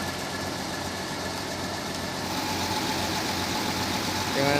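An ALS intercity bus just arrived from Medan sits idling at the Pekanbaru terminal, its engine giving off a steady, even rumble throughout, with a slight rise in level near the end.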